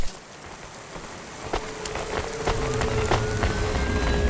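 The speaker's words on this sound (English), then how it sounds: "Don't let all the rain get you down." Steady rain falls in a rainy city in the game Cloudpunk, a continuous hiss and patter with scattered sharper drips, unbroken and alone.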